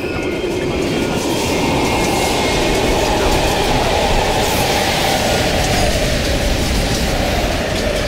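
A train rumbles loudly past in an abandoned East German station in Call of Duty: Black Ops Cold War, a steady heavy roar of wheels and cars with rattling clatter, close and continuous.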